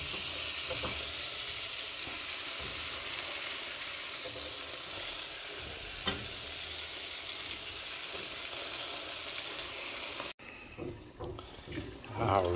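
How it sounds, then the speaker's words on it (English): Steaks and giant prawns sizzling over a charcoal grill at a Philippine beach house, a dense, steady crackling hiss up close, with the sizzle thinning out near the end as a voice murmurs. "I'm gonna grill up a little steaks too"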